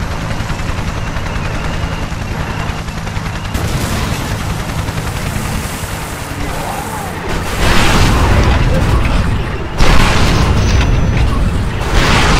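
A tank gun fires at zombies in Zombie Driver HD, loud booming bursts and rapid gunfire over a constant rumbling engine, with heavy blasts near eight and ten seconds.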